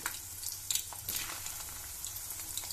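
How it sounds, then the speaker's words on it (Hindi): Okra (bhindi) frying in hot oil, a steady soft sizzle and crackle with faint stirring scrapes throughout, fairly quiet and alone. "सबसे पहले गरम तेल में इन भिंडियों को हम फ्राई कर लेंगे"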